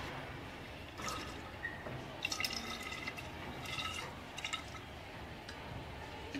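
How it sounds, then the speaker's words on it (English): Distilled water is poured into a laboratory flask, a faint continuous trickle with scattered drips and small splashes, close and alone. "total volume is made up to 250 ml by adding distilled water"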